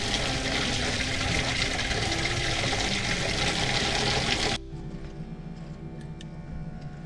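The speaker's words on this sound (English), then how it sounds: "Well, I can see that the pump is on," A bilge pump runs submerged in a bucket of water, churning and splashing loudly for several seconds, then drops to a quieter mechanical hum with faint clicks.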